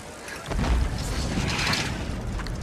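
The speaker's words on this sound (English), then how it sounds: "All units report of a possible gas explosion, Bayside Office Park" A gas explosion at an office park registers as a heavy low boom that swells in and then rolls on as a sustained, rumbling roar, loud and without voices.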